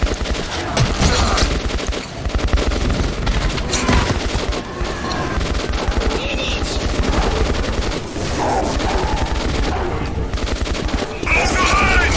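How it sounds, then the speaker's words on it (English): Heavy gunfire from the tunnel shooter game Metro 2033 Redux, with dense bursts of automatic weapons and rapid shots overlapping continuously, loud and close, while voices call out beneath the firefight. "Fire at will."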